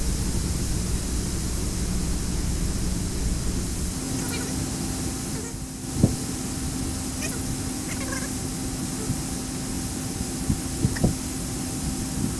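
Steady broadband hiss of a pink noise test signal on a Denon DN-790R cassette deck fills the clip, with a faint tone entering partway and a few soft knocks and clicks over the top.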